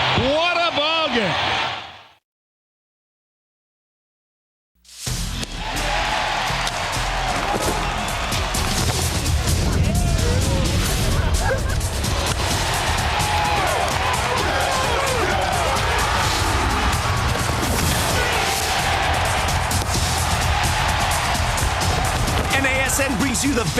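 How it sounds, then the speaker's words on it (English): A stadium crowd roars and cheers wildly and continuously after the Braves win the pennant, loud and dense for the final two thirds. A short burst of sound and a gap of silence come before it. "This crowd has gone berserk."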